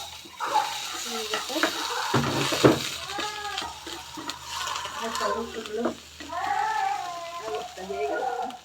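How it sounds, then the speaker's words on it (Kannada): Beans frying in a pan are stirred, giving soft scraping and sizzling under a person talking throughout. "ಆ್ಯಂಡ್ ಇವಾಗ ಅದನ್ನು ಒಂದ್ಸತಿ ಫುಲ್ ಮಿಕ್ಸ್ ಮಾಡ್ತೀನಿ"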